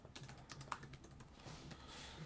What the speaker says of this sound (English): I'm just going to start typing things till it starts working.